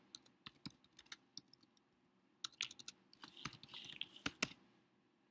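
Typing on a computer keyboard at close range: sparse key clicks, then a short quiet pause, then a faster cluster of keystrokes, soft and without talking.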